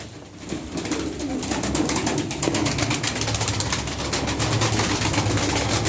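Pigeons coo in low, repeated throaty calls, several birds overlapping close by with some flapping and shuffling in the background.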